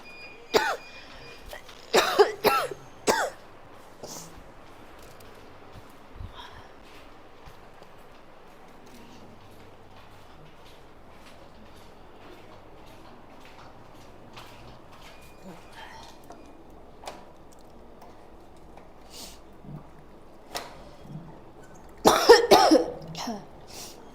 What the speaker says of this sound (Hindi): बुरा हाल हो रहा है मेरा खांसी से।